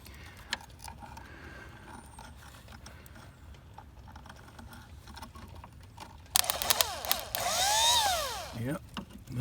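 A Mercury outboard tilt and trim motor, repaired and bench-tested, sits quietly before whirring loudly to life near the end, running for about three seconds with a rising mechanical whine before stopping.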